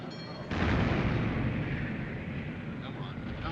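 Naval gunfire in a 1956 film battle scene, where a sudden heavy boom opens into a long rumbling roar that slowly fades, with voices in the background.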